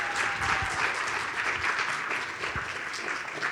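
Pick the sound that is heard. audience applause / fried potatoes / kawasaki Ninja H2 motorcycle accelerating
audience applause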